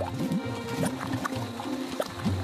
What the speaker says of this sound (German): So blubbert es auch, wenn meine Mutter kocht.